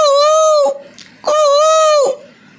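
A man mimics a koel (cuckoo) with two clear, sustained whistled calls. Each holds a steady pitch, then drops at the end, with a short pause between them.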